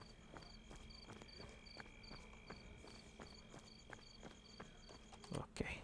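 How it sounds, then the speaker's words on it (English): Night insect ambience of crickets from a procedural sound tool: steady rhythmic chirping pulses with faint ticking and a soft background hum, ending in a few louder clicks. "So here we have the 5 night sounds for insects."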